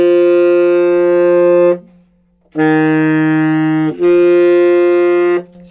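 Two sustained saxophone notes, C then a slightly higher D, each held steadily with a short silence between, followed by another held note.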